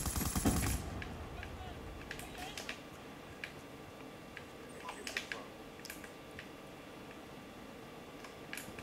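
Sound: light machine gun fire in the video game Black Ops 2

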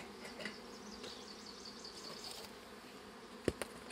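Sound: honeybees buzzing around a hive

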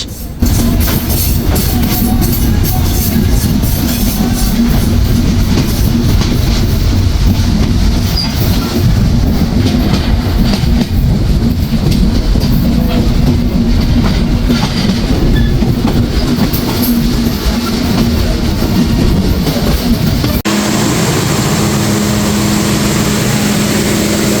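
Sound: Chilahati Express train running

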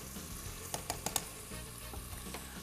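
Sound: stirring sliced lemon in the okra soup pot

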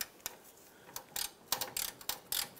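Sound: ratchet tightening bolt on fuel tank strap

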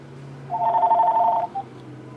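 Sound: telephone ringing

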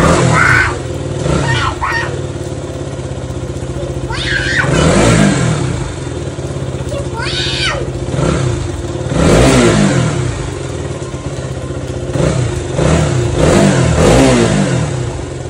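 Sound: vehicle engine starting and revving

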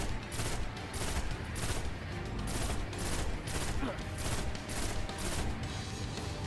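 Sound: gunfire in Destiny video game

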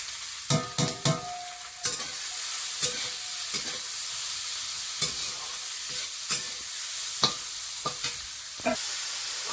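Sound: prawns frying lightly in oil with garlic

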